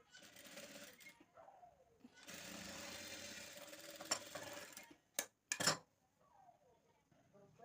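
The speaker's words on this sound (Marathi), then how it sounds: "घडीवर टिप मारायची." A sewing machine stitches down a fold in a blouse, heard as faint, uneven runs of whirring with pauses and a couple of short clicking bursts between them.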